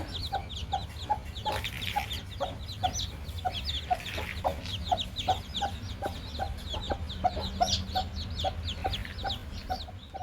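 Country hens cluck in a rural poultry yard in repeated short, regular calls, close and clear over a low steady background hum, with no voices present.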